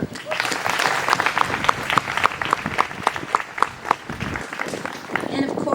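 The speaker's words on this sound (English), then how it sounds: "Please celebrate yourselves as well with a round of applause." Steady applause from a crowd at a 2022 school commencement ceremony, many hands clapping together throughout, with a few louder claps standing out and a voice faintly underneath.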